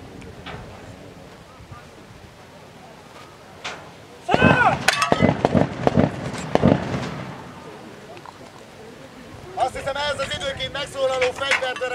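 Gunfire crackles in the background during a Hungarian martial-arts demonstration of breaking roof tiles, a dense burst of sharp reports for a few seconds, then fainter scattered pops with a voice talking over it.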